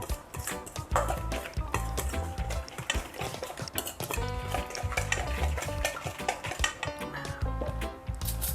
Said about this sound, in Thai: เราคนส่วนผสมก่อน